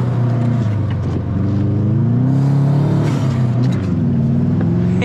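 A Subaru Impreza on a technical race track in snowy conditions drones loudly and steadily from inside the cabin, its engine note rising and falling with throttle changes.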